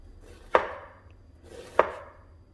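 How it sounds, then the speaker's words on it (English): Two crisp knife cuts through fresh strawberries onto a cutting board, each a sharp close tap about a second apart, with near silence around them. "I'm going to slice some fresh strawberries."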